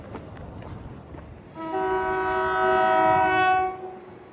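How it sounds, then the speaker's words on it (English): A train arrives at Coleraine station in Northern Ireland and sounds its horn, a loud, sustained tonal blast of about two seconds rising over low rumble on the platform, then fading. "There's our train."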